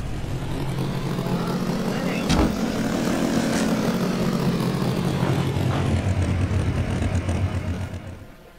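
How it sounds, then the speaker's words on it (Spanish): A motorcycle engine in the Rules of Survival battle-royale game, droning steadily and fairly loud throughout with a brief thump midway, then fading out at the end. "may motor ditong naririnig ko"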